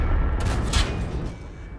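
A single heavy tank cannon blast from a video game, a Panhard AMD 178B, with a dense low rumble, loud and close, trailing into a noisy mechanical background.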